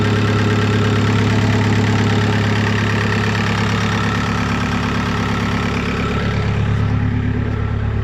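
A van engine idles steadily and loudly, a continuous low rumble with a constant mechanical throb and no change in revs.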